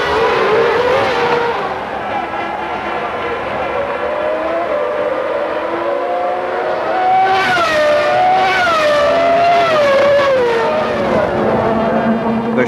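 Formula 1 cars from the 1994 season roar away at a race restart, a dense, loud wall of high-revving engines with rising and falling pitch sweeps as cars accelerate past, continuous throughout.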